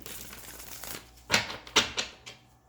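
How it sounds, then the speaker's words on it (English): A Rider-Waite tarot deck is shuffled by hand in a quiet room, a soft papery riffle followed by several crisp, separate slaps and flicks of the cards, close and fairly faint. "I'm shuffling in real time here on camera"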